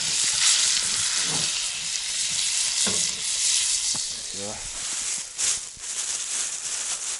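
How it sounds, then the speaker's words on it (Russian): Pike frying in hot oil in a heated pan gives a loud, continuous sizzling hiss, broken by a few utensil clatters and scrapes, with no talking. "Самая фишка, ребята, это масло. О, сковородочка нагрелась."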